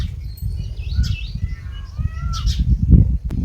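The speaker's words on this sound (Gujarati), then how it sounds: "મોરલા કિલોર કરે" Peacocks calling near a village farm during the sowing season: a few short, bright calls rise over a steady low rumble of background noise.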